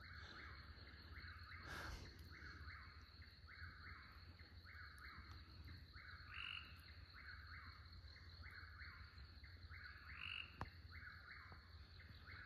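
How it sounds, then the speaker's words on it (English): Frogs call at night in the grasslands, a steady pulsing chorus repeating in regular bursts with faint insect and bird sounds behind, fairly quiet and distant, no talking. "And then one of the Budweiser frogs off to the left."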